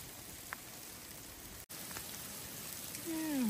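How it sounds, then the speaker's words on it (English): Sudden rain on the Pacific Crest Trail as storm clouds roll in, a faint, steady patter of drops with a brief gap and a low rising tone near the end. "Very unexpected rain."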